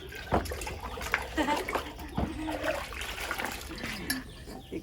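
Water is poured over an elephant figurine in a tub, giving irregular splashing and trickling at close range under faint background noise.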